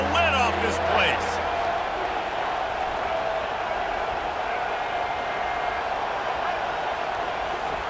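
A stadium crowd roars steadily in College Football 25, a dense continuous wall of cheering that holds at full strength throughout, with a brief burst of other noise at the very start.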